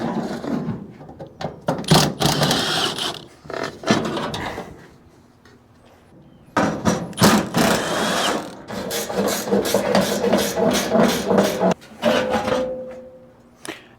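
Impact wrench removing old bolts while tearing down a Chevy COE for a motorhome frame swap: loud, harsh bursts of rattling hammering in several runs, separated by quieter gaps, close by.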